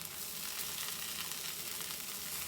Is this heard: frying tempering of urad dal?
yes